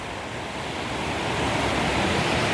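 Strong wind blows steadily near a dam in an open valley, a broad roaring rush like surf that swells slightly louder toward the end, with no voices.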